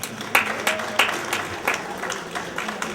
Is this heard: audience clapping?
yes